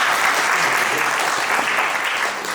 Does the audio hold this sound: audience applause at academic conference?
yes